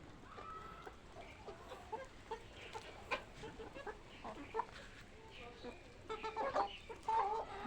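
Several roosters cluck in short, uneven bursts at close to middle distance outdoors, growing busier and louder near the end, with faint background noise and no clear speech.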